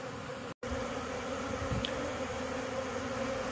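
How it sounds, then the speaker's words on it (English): Honeybees buzz steadily around a hive box as nucs settle in, many landing on top and others hovering in the air; a continuous close drone fills the air, broken by one brief dropout. "All the bees that were in the air have either landed on top of that box, which is relatively normal, or they're all queuing up in the air"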